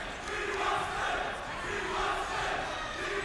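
A high school basketball crowd in the Athens gym roars and shouts in a sustained swell of cheering voices, rising and falling with no single speaker standing out.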